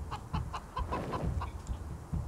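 A chicken in the video game Wasteland 3 clucks in a rapid run of short, repeated notes, fairly close and clear over a low background rumble of game sound, with no talking.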